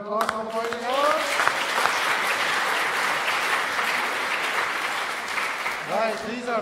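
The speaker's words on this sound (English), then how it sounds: "Round of applause for the boys and girls." An audience at a church service claps in a dense, steady burst of applause that lasts several seconds, with a speaker's voice briefly audible at the start and again as it ends.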